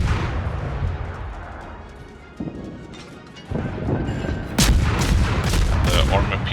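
Warship guns firing in World of Warships, heavy booming salvos that swell into loud, dense bursts of artillery near the end, with a voice talking over parts of the barrage.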